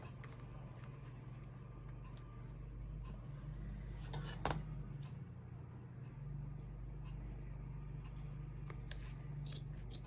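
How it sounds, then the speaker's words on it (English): Scissors cut fabric for a handmade journal, a few soft snips and one sharper crunch midway over a steady low room hum, close but quiet. "I always try to use these scissors to cut material and it rarely works."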